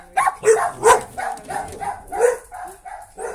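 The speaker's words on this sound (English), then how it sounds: "dogs in the background, so that's part of it." Several dogs bark in repeated yaps and bow-wows, a few mixed with whimpers, in a rhythmic series of close, fairly loud barks with no talk over them.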